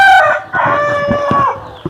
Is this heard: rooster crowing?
yes